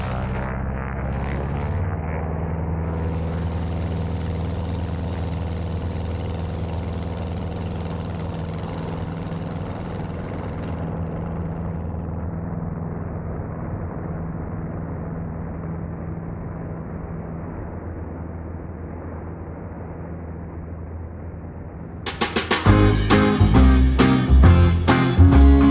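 Warbird airplane engine running up for a short field takeoff, a loud, steady droning rumble from inside the cockpit that holds for about twenty seconds before swelling into a harsher, louder roar at full power.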